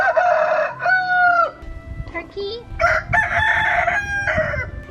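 Chickens and a rooster on a farm, crowing loudly several times in succession at close range with clucking between calls and a faint voice in the background.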